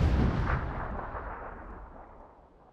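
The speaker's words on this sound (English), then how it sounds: "Wait, grenade." A grenade detonates in a shooter video game: one heavy boom at the start that rolls off into a long decaying rumble, loud and close, with no talk over it.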